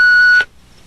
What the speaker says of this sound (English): Please start talking at the sound of the beep.